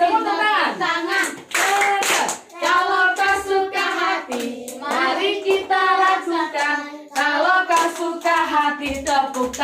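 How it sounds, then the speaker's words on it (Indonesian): Children clap their hands along to a sung children's song at a fourth birthday party, rhythmic claps in time under loud singing voices. "Kalau kau suka hati, tepuk tangan."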